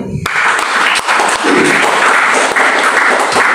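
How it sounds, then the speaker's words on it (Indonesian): A church congregation gathered for a service in a Jakarta apartment claps loudly and close, a dense burst of applause that starts abruptly and stays strong throughout, with a few heavier thumps in it. "Tepuk tangan boleh."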